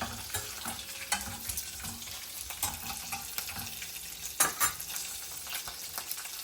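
Lentils being dry-roasted and stirred in a pan while making onion pesarattu, a quiet sizzle with soft scraping strokes and small rattles of grains, close and steady throughout.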